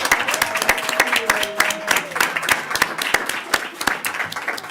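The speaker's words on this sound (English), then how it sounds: "Ms. Ashati Blatt, please give her a strong third round of applause" Audience applause at a school board meeting: scattered clapping from a modest crowd, steady for about five seconds, with a sustained tonal sound and some voices underneath.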